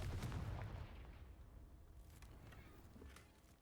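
A Confringo fire spell blast in Hogwarts Legacy goes off as a loud, booming burst at the start, then decays into a rumbling tail with scattered crackles.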